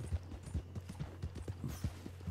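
A horse in Red Dead Online trots with steady, rhythmic hoofbeats on dirt, close and clear over a low constant hum, no voices.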